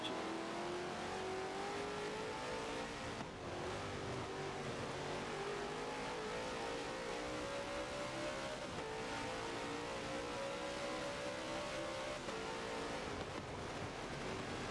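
Race cars roar continuously around Spa-Francorchamps in a racing video game during a 24-hour event, a loud sustained engine drone with rising pitch as it accelerates through gears, steady and close throughout.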